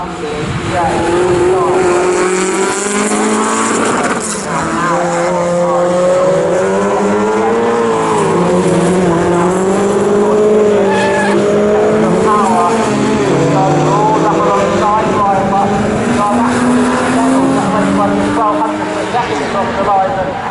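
MG race cars at an MG Car Club race at Snetterton sweep through a corner, engines loud and close with rising and falling whines as they pass one after another, under continuous commentary.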